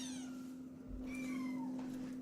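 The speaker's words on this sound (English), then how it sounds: "we're hanging out with kittens and I'm filming" Kittens meow in a string of high, wavering cries, close and fairly loud, with a steady low hum running underneath.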